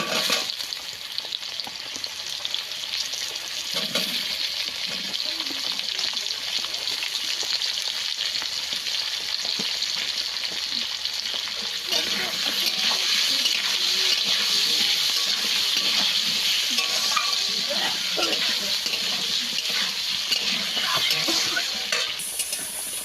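Potatoes and onion frying in a pan, a steady bright sizzle that runs continuously and swells louder partway through, with occasional faint stirring scrapes and no talking.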